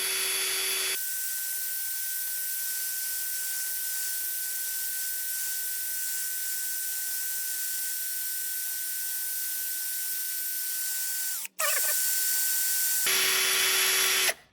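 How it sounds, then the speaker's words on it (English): A drill-driven hone whirs steadily inside a Thunderbird brake wheel cylinder for about twelve seconds, a constant loud grinding hum that stops briefly before the spinning resumes. "until the inside is polished, honed out nicely"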